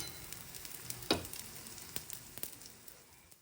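Bobbatlu, sweet flatbreads, roast in ghee on a pan turned over high heat, giving a soft steady sizzle with a brief sharper crackle as the bread is flipped, close and moderately quiet.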